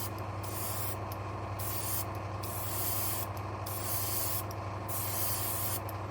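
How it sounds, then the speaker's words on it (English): A Deco airbrush sprays paint in a continuous loud hiss, broken by several short gaps as the trigger is released and pressed again, with nothing else heard. "I'm still a huge fan of these airbrushes, by the way, from the Deco. They really spray very well."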